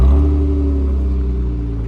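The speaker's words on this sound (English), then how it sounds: "That is the Borla exhaust that I had that I replaced the original exhaust system" A car engine fitted with a Borla aftermarket exhaust, replacing the original system on a vehicle past 400k miles, revs from a warm start with a deep, loud, close rumble that swells at first and then settles into a steady throaty drone.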